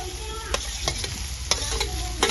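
Potatoes hit a hot frying pan and sizzle loudly and continuously up close, with a few sharp scrapes and stirs punctuating the hiss.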